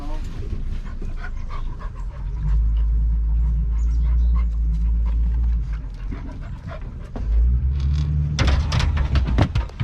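An excited puppy whimpers and pants heavily on a woman's return home during an Alaskan road trip, close and continuous with rumbling low noise, and a few whines near the end.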